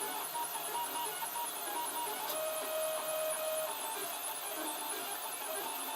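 A 3D printer with an E3D clone hot end and 0.4 nozzle prints black 1.75 mm PLA onto blue painter's tape, a steady whirring buzz of stepper motors with small pitch changes, close and continuous.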